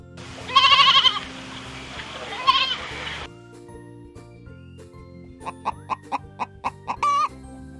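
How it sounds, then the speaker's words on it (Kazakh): A goat bleats twice with loud, wavering cries over a faint musical backing, followed by a series of short rhythmic chicken clucks and a brief squawk. "Ешка."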